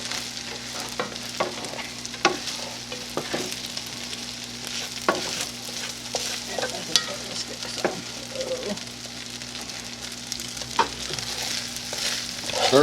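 Fried rice stirred in a pan, seasoned with soy sauce, with steady sizzling and repeated scraping and clacking strokes of a utensil close by, no voices.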